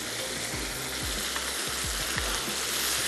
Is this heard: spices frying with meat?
yes